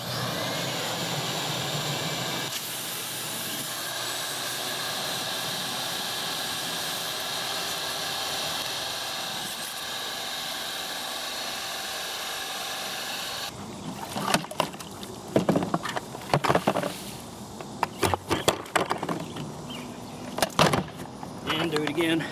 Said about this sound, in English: We're going to try to shop vac it out, see if that'll speed things up a little bit.